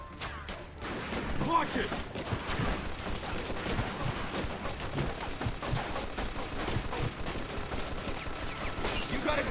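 Machine gun fire and dense battle noise in the video game Mafia II, wartime chapter in the old country: a continuous, crackling barrage at mid distance, with a voice shouting briefly over it.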